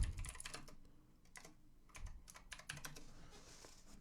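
Fingers typing on a computer keyboard in quick uneven bursts of clicks with short pauses between, close and fairly quiet, without any voices.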